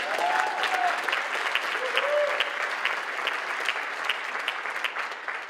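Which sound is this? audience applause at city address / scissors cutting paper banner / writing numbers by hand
audience applause at city address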